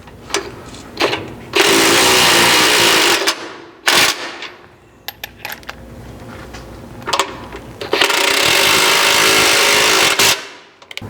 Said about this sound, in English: You'll then need a decent impact and a 3/4 socket, and then it's just a matter of applying a little bit of pressure to the back of your impact and running these in.